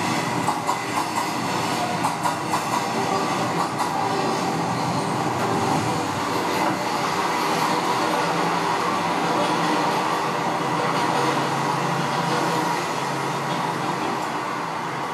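A train runs on the ground-level railway near Taichung station with a loud, continuous rumble of wheels on track, faint clickety-clack and some squeal. It passes steadily throughout with no talk.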